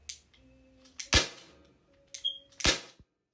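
A Byrna non-lethal launcher fires two sharp, loud shots at close range, roughly a second and a half apart, with quiet between them.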